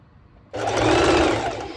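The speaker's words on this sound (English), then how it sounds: "I'm going the same, just a normal straight stitch" A sewing machine runs a plain straight stitch through stretchy bikini fabric, starting abruptly after a quiet moment and then whirring steadily and close for over a second.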